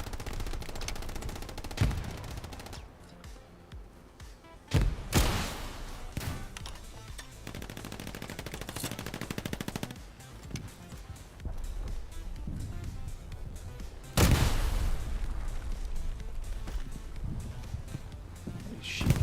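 Machine-gun bursts and rifle shots in the World War II shooter Hell Let Loose, sustained rattling fire with sharp louder cracks near 2, 5 and 14 seconds, continuous and fairly close.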